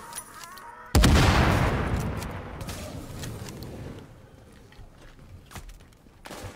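A single loud sniper shot rings out in Tom Clancy's The Division, followed by a long booming decay. Fainter clicks and distant shots come after it.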